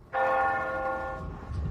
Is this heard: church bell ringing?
yes